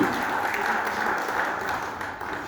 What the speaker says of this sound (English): Round of applause, please, for the participants of Series 2.